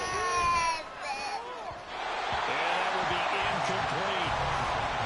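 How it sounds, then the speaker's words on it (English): A crowd at a Jaguars versus Jets football game applauds after an incomplete pass, a steady wash of clapping and cheering that swells after a brief lull and holds under a commentator's voice. "That got some applause for the defense there."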